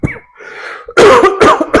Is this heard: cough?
yes